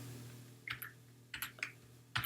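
Computer keyboard being typed on in short bursts, a few quick clustered keystrokes separated by pauses, close and crisp over a low steady electrical hum.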